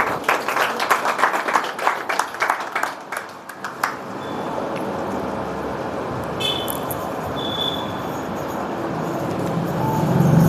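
An audience at a talk claps for a few seconds, a dense burst of close hand claps that stops and gives way to a steady background hiss.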